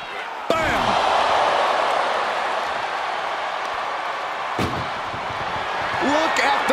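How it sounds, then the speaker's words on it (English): Ambulance doors slam shut in WWE 2K24 during an ambulance match, with sharp metallic bangs near the start and again midway over a constant crowd roar and a commentator talking. "And they shut the door and have won this ambulance match."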